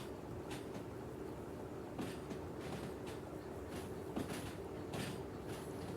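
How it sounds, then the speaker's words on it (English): A locomotive hauls a train in the railway simulation game Derail Valley, producing a steady rumbling drone with repeated clanks and rattles every second or so, heard alone without talking. "I'm running that forward locomotive from the other end of the train."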